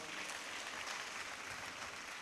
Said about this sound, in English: let's put our hands together for them.